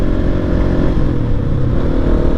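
Motorcycles on a Utah canyon trail roar past at steady close range, a continuous loud engine drone with slight revving and no talking.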